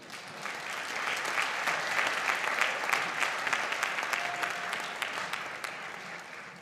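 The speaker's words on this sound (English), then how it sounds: "How about another round of applause for our band students?" Audience at a school winter concert applauding the band students, a full steady round of clapping that swells early and holds, with a brief faint tone midway.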